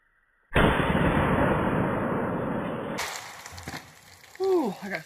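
A .40 S&W frangible 125-grain centerfire round is fired into water bottles, a single loud close blast followed by a spray of water. A brief voice follows at the end.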